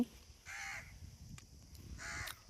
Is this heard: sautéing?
no